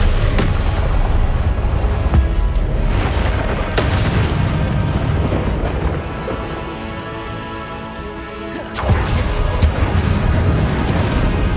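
Incendio fire spell from the Hogwarts Legacy game on PC, loud rumbling booms and fiery blasts layered over a dense, continuous battle soundscape, with a brief dip before another heavy impact.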